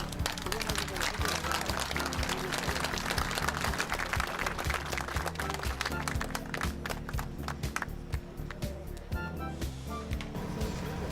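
Audience applause after a lecture on teachers and state-backed education projects, a broad, loud clapping that carries on for several seconds before breaking into sparser individual claps near the end.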